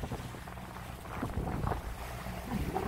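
A sailboat runs under reefed mainsail and partly furled jib in stiff wind on the sea between Symi and Datça, with steady rushing wind and water noise and low buffeting gusts, close and continuous.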